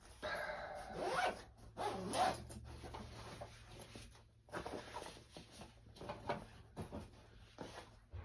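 A bagpipe storage case is zipped shut after the chanter and blowpipe are packed inside, giving a few close, quick rasping zipper pulls with short pauses between them.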